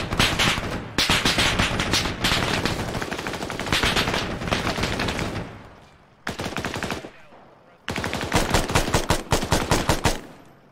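Small arms gunfire in a military video game, dense rapid bursts of automatic fire with brief pauses, loud and close throughout.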